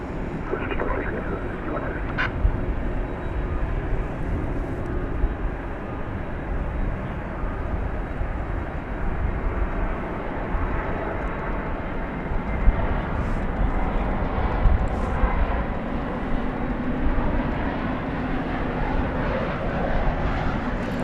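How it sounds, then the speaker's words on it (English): A Qantas jet airliner takes off at night at DFW Airport, a broad, steady roar of jet engines heard at a distance beneath continuous talking. "I suspect that the Qantas flight will be rolling down the runway just a little bit longer than that"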